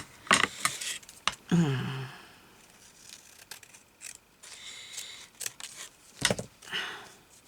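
Scissors cutting through a book cover being made into a journal, irregular close snips and crunches with brief pauses between cuts and scraps of handling noise, no talking.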